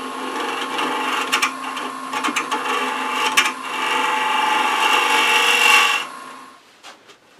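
Wood turning on a lathe with a half-inch spindle gouge, a steady scraping, hissing cut broken by short rhythmic rasps, then a sustained even cut that stops abruptly near the end.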